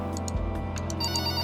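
An office telephone rings with a repeated electronic ringtone, a series of quick bright pulses recurring steadily, clear and close with a low hum underneath and no voices.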